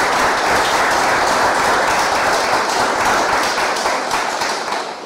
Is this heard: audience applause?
yes